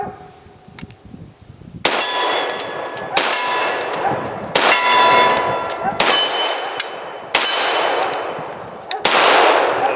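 An FNX-45 Tactical pistol fires .45 rounds at a small swinging steel target outdoors, with six loud shots spaced about a second apart, each followed by a ringing metallic clang that decays slowly.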